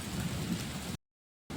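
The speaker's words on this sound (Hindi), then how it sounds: "देखो गाइस हमारे यहाँ भी बारिश हो गई है" Steady rain falls after a strong windstorm, a soft, even hiss that runs for about a second before cutting out, then briefly resumes. No voices.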